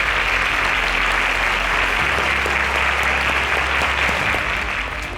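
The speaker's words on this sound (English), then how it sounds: "A round of applause for Nimat." A quiz show crowd applauds steadily, dense clapping sustained at even volume throughout.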